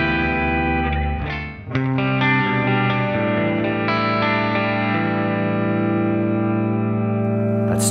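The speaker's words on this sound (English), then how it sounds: "It's just a clean tone with a lot of reverb" Sustained electric guitar chords from a Hartwood Fifty6 with a Bigsby ring out with a clean tone washed in heavy reverb and no delay, a restrike near the start, notes lingering and blending.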